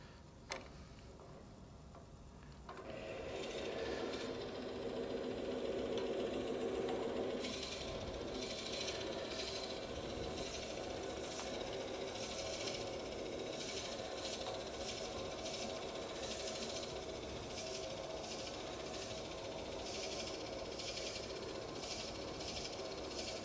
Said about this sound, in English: Lathe speed down to around the 400 or 500 for drilling.